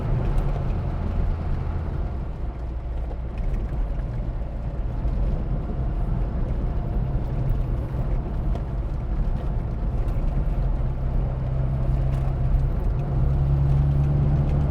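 A classic Mini on the move: a steady, droning engine and road rumble continues without a break, loud and close from inside the car.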